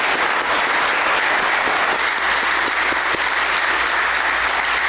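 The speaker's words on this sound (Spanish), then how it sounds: "Yo creo que merecemos darnos un aplauso a nosotros" A large audience claps continuously, loud and dense, sustained applause filling the whole stretch without pause.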